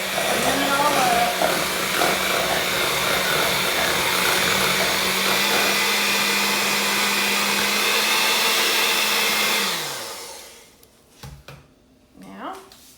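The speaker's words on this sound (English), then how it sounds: "get your butter and your cream cheese blended well and creamed together. As you can see, blend it all up." An electric mixer creams butter and cream cheese together for cinnamon roll frosting, a loud, steady whirring drone that runs for about ten seconds and then winds down, followed by a few clunks.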